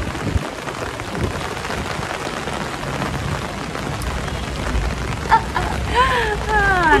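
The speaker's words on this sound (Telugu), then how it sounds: "సో ఇంకా వర్షం పడుతూనే ఉంది." Steady rain falling outdoors near a temple in Antananarivo, Madagascar, a dense continuous hiss with a deep rumble underneath and a few brief higher sounds near the end.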